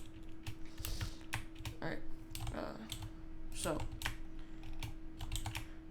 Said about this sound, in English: sorry about all the noise on my keyboard yet again